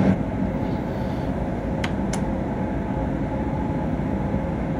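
A Berlin S-Bahn train rolls along in Train Simulator Classic, a steady low rumble of running gear with two brief high squeals partway through.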